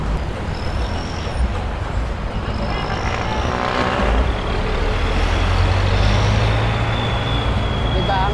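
A jeepney goes by on a road near Hinulugang Taktak while vehicles cruise uphill, a loud steady engine roar and road noise holding throughout, with a faint high whine above it.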